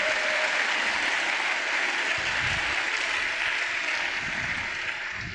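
A church conference audience applauds steadily, a dense, loud wash of clapping that holds for several seconds with a slight fade toward the end.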